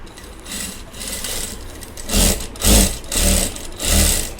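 A Singer Power 141G-20CEA electric sewing machine runs in four short, loud bursts of stitching about every half second, each rising and falling as the pedal is pressed, over a steady lower hum.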